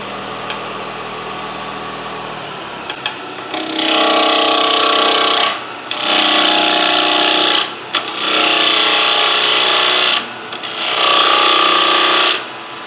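A wood lathe spins a dinner plate blank as a bowl gouge cuts it round, loud rough scraping and hissing in four long passes with brief gaps, over the machine's steady motor hum.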